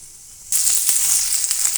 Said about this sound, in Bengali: রসুনটা হালকা ভেজে নিচ্ছি।